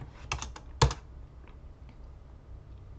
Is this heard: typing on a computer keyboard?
yes